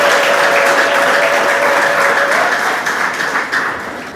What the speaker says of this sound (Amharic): ጌታን እስቲ ከፍ ባለ ጭብጨባ ጌታን